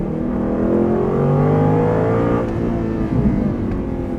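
Aston Martin V8 Vantage S with its V8 engine revving hard and close, a loud rising and falling growl that holds steady for about four seconds.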